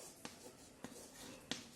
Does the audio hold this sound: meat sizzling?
no